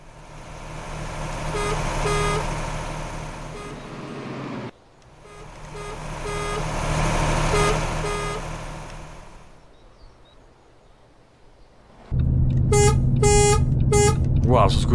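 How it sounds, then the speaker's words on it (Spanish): A loud bus horn blares in long repeated blasts, heard from inside the Club América team bus leaving Estadio Azteca over a rumbling engine with voices talking, then returns harsh and sustained at the end. "se escucha muy fuerte la bocina aquí desde adentro"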